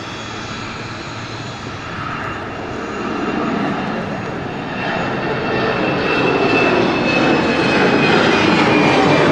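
Aircraft engines at London City Airport rumble and whine loudly and continuously, the roar swelling steadily over several seconds, with an airport apron setting and no clear talk.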